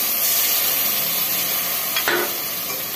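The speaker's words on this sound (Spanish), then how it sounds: "Vamos a seguir sofriendo" Sardines with seasoning sizzle steadily in a pot, a loud continuous frying hiss with one brief stir or scrape near the end; no voices.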